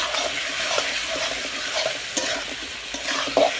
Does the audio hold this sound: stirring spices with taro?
yes